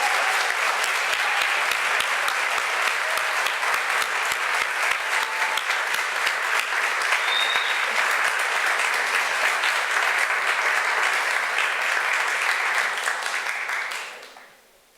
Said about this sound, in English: Your applause is welcomed.